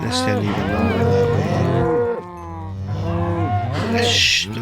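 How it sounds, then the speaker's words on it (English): Cows in the Minecraft video game moo repeatedly on a farm, several overlapping drawn-out calls close by and fairly loud, with a brief pause partway through. "I've got plenty of adult cows up here."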